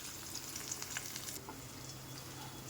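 Potatoes fry in a pan for aloo curry, giving a faint, even sizzle throughout with a few soft spatula scrapes early on.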